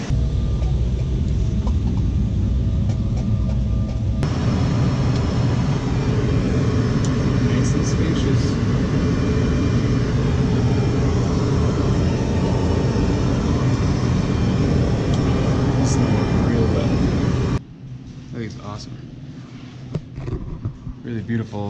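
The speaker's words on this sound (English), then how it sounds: "We're starting off right in a plane, heading to Spokane for the night." Steady, loud roaring cabin noise inside a small private plane in flight, a dense continuous drone that drops abruptly to a quieter, thinner rumble near the end.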